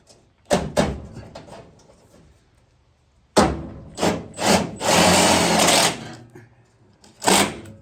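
A power screwdriver drives a screw into a panel in short, loud whirring bursts, with one longer sustained run and brief clicks between them, close and alone.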